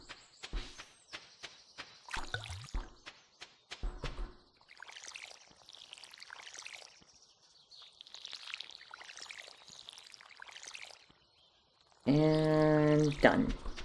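A watering can pours onto crop seeds in the farming game Stardew Valley, soft trickling bursts repeating at a moderate level after a few short footstep-like taps, ending with a louder tonal game sound.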